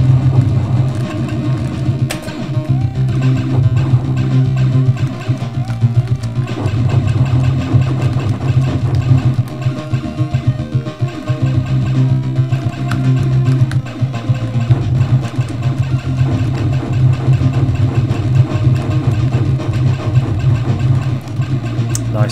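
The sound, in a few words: turbo engines in Amiga video game Moonbase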